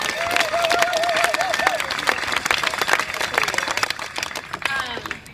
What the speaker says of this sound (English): just give yourselves a huge round of applause